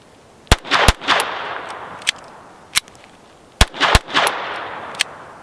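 A Walther P22 pistol fires at an outdoor range in two quick clusters of sharp, loud reports with several single shots between them, each crack trailing off in echo.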